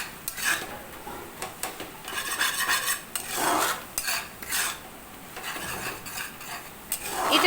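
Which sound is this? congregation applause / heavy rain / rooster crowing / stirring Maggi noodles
stirring Maggi noodles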